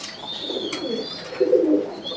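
A Magpie pouter pigeon coos at a pigeon farm, its low, soft, throaty calls rolling in a few close swells, the last one fuller and louder.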